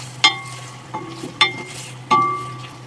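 Shrimp being added to a boiling pot and stirred, with four distinct utensil scrapes and clinks against the pot over a steady low bubbling hum, no talking.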